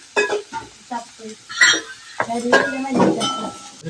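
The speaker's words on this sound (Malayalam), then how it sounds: "ആദ്യം നമ്മള് അരിഞ്ഞ് വെച്ച വെല്ലുള്ളി ഇതിലേക്ക് ആഡ് ചെയ്ത് കൊടുക്കാണ്" Chopped garlic frying in a hot pan while being stirred, with intermittent sizzling bursts, scraping and clinks of a utensil against the pan, close and fairly loud.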